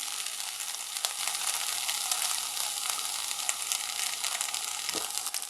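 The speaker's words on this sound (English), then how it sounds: "When the water evaporates, so the water boils off, beautiful sound, just beautiful, the sound of cooking fresh food." Popcorn kernels heated in a microwave without oil, crackling and sizzling steadily as the water boils off, a dense close hiss with scattered sharper pops throughout.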